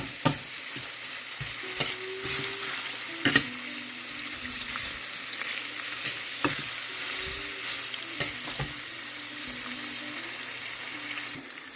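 Onions frying in a pan for a budget potato dish, with a constant close sizzle under repeated scraping and knocking as a utensil stirs them.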